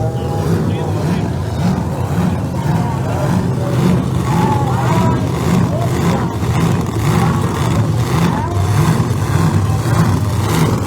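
Drag race cars at Empire Dragway roar loudly and continuously as they launch, the dense engine noise pulsing under an announcer's talk.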